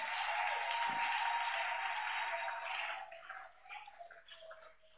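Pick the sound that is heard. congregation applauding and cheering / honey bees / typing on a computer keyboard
congregation applauding and cheering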